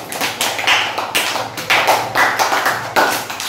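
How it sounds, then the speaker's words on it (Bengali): A class of young children claps for a classmate in a primary school lesson, with fast, uneven, close hand claps running through the whole stretch and rising in short bursts. "তো ওর জন্য সবাই জোরে করে হাততালি দাও তো।"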